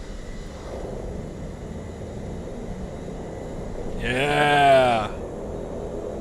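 A simulated Pilatus PC-12 turboprop in reverse/beta in MSFS 2024 gives a steady, moderate engine drone throughout. Near the end a person speaks briefly over it.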